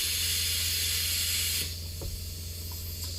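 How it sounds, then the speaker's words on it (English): A Hypertherm plasma cutter cuts steel with a loud, steady rushing hiss that stops abruptly partway through. A lower, quieter hum and a few faint clicks follow. "cut the steel, I'm using my Hypotherm plasma cutter"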